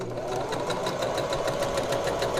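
Sewing machine stitching a fabric face mask, sewing a reinforcing line over an earlier stitch; a steady, continuous mechanical whirr with a rapid needle rhythm runs loud and close for the whole stretch.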